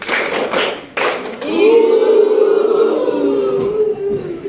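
Children clap in a rhythm game, with a few sharp, loud claps in the first second and a half, followed by a sustained voice calling out over the room.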